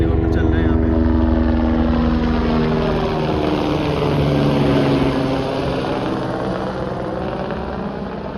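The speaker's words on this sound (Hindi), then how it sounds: "ये कुछ हेलीकॉप्टर चल रहे हैं यहाँ पे।" Helicopters fly near Kedarnath, their steady rotor drone and engine hum rolling continuously and fairly loud across the valley while someone talks over it.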